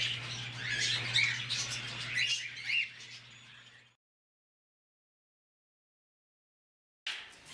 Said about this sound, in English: the African gray aviary. As you can see, it is full of many gray parrots.